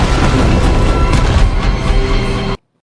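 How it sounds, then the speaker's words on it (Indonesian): A bomb blast inside a tunnel in a military action film plays as a loud, sustained roar with rumbling booms and debris crashes filling nearly three seconds before cutting off abruptly. "Haris kembali mengingat rekaman kejadian saat bom di terowongan itu meledak"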